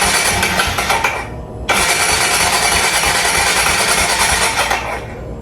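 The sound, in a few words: engine dying out when given throttle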